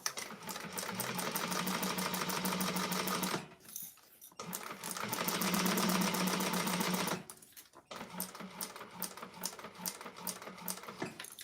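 A sewing machine stitches the exterior of a clutch wallet in two long, steady runs of rapid needle chatter, each stopping briefly before a third burst starts; close and fairly loud, with no talk.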